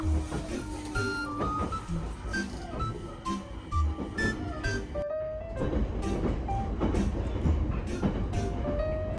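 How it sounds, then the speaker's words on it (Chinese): A JR train ride toward Uzen-Chitose station in snowy Tohoku: a steady close rumble of the rail car with rhythmic clacks and rattles, plus occasional tonal squeals, running throughout. "我们现在要先搭这个 JR 的3型列车到羽前千岁站"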